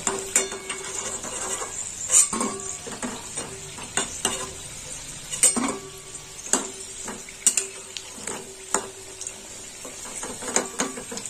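Capsicum pakoras sizzling in hot frying oil as they are lifted out, a steady crackle close by, punctuated by sharp metallic clicks of a utensil against the pan.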